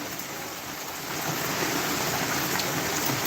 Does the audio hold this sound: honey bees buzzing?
no